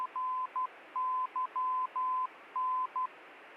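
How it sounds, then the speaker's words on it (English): A Morse code station identifier on an aircraft navigation radio plays as steady tone dots and dashes in an irregular keyed pattern. The tone is faint and thin over a soft hiss. "That's the Morse code. That's what we need to identify."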